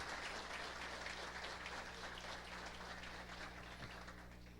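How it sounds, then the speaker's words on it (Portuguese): Faint, distant audience applause at a diploma ceremony, a steady wash of clapping heard under a constant low electrical hum. "Uma salva de palmas aos diplomados de Timbé do Sul."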